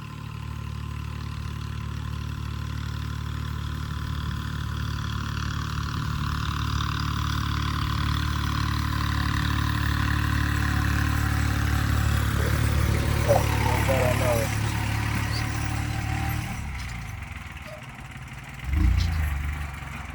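A mini tractor working on a farm runs with a steady, continuous engine drone for most of the time, then the sound shifts and drops near the end, with faint voices.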